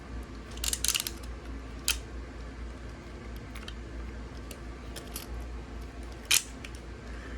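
Plastic parts of a Megatron transforming toy figure are folded down into place. A few small, close clicks and snaps stand out over a steady background hum.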